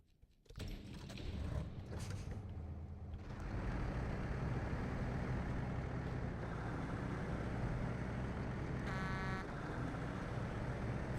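An old truck engine in the video game SnowRunner starts up and idles loudly, a low, steady, rough mechanical rumble that holds through the whole stretch with a brief high whine near the end.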